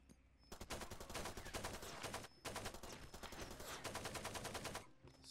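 An AK assault rifle in Far Cry 2 fires in long rapid automatic bursts, loud and close, with a brief pause between two sustained volleys.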